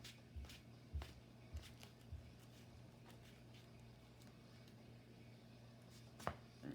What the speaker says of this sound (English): Give this a half-decent shuffle.